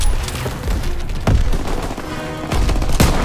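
Gunfire and a grenade explosion in Call of Duty: WWII, a World War II shooter game, come as loud sharp bangs and bursts of shots over a constant rumbling battlefield din, with no talking.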